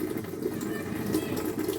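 Water running steadily from a kitchen tap in a home, a continuous close splashing flow lasting under two seconds with no voices.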